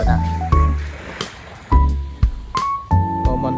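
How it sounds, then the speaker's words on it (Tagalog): Sea waves break on the shore in repeated surges, each rush arriving about every second, close and fairly loud, with faint tonal background sounds. "Ito ang dagat."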